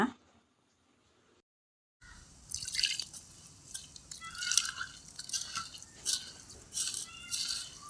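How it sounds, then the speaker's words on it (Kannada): After two seconds of near silence, water splashes and drips onto red soil in uneven bursts, close and moderately loud, with a soft wet mixing texture. "ಇದಕ್ಕೆ ನೀರು ಹಾಕಿ ಕಲಸುವ."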